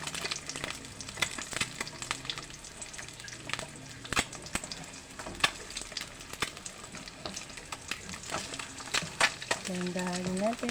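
Egg frying in a generous amount of cooking oil for breakfast, a steady crackling sizzle with sharp pops and spatters throughout, close and fairly loud, with a brief tonal scrape or voice near the end.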